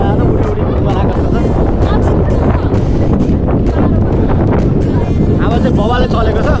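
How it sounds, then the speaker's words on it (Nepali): Strong wind blows hard and steadily across an outdoor spot, a loud, continuous rushing buffet that never lets up, with faint voices under it. "हावा चाहिँ बबाले चलेको छ"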